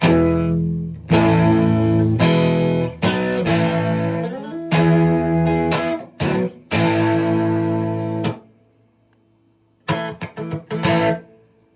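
Distorted electric guitar through Super Distortion and Dark Matter pedals playing chunky, percussive chords in bursts with brief stops, followed by quick muted stabs near the end.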